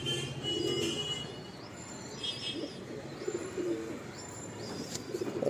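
A breeding pair of pigeons in a home loft, one a fine hen, gives soft repeated cooing with a few faint chirps over quiet, low background noise, with no talking.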